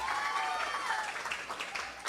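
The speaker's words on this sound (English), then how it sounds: "a big applause for him, please." Applause from an audience at a third-grade spelling bee as a participant is called up for a certificate, a dense steady wash of clapping throughout, with faint voices beneath.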